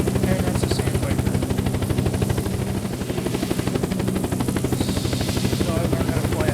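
Sandpiper helicopter in the Unturned video game, its rotor thumping in a fast steady pulse with a continuous engine drone, loud and close throughout.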